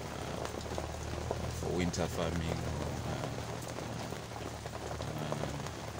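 Heavy rain pours steadily, a dense hiss of drops on surfaces with a few louder splashes, heard close under a voice speaking throughout.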